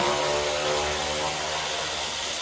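A loud, steady mechanical whine and buzz of a power tool unbolting Ram engine bolts runs continuously without pause, close up and harsh.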